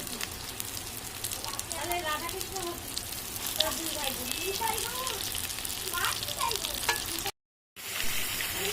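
Mutton pieces going into a hot pan of well-fried tomato and spice masala, a continuous close sizzle and frying hiss with stirring, a voice speaking over it, cutting out briefly near the end.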